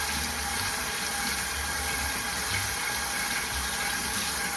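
Hands being washed under a running tap, a steady even rush of water with no talk.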